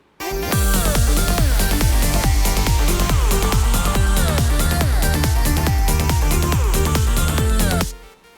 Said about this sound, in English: So now it will sound like it's coming from the center because I have disengaged the side signal.